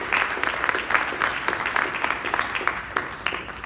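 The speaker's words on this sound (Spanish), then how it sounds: "Denle un aplauso al Señor." A church congregation applauding during a Bible study sermon, a dense burst of many hands clapping at close range, steady throughout with a faint voice underneath.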